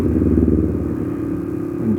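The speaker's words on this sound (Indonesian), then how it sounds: "Gereng-gereng ini mesinnya, gereng." Motorcycle engine working hard on a steep uphill road toward the summit of Mount Telomoyo, a steady low rumbling drone with some clatter, close and continuous.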